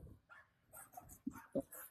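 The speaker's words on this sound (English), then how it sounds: "You stop barking at people!" A dog barks in the VR detective game DetectiveVR, giving a few short, close yips and barks in quick succession over a quiet background.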